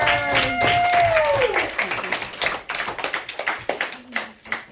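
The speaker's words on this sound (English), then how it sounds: "Let's give Xavier a round of applause." A burst of clapping from a small audience at a school virtue awards ceremony, lively at first and then thinning into scattered claps, with a brief tone ringing underneath.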